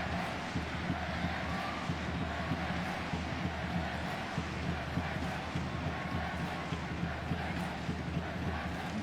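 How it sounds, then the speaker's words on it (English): A big stadium crowd at a women's international soccer match between the Matildas and the USA keeps up a steady, enthusiastic roar of cheering throughout, with some faint voices mixed into the noise. "Enthusiastic crowd here getting behind the women's team"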